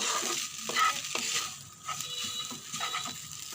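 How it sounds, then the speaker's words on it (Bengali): Noodles are stirred with spices in a pan, giving soft scraping strokes in short bursts over a light sizzle, close and fairly quiet, with no one talking. "মশলার সাথে নুডলস মিশিয়ে নিব।"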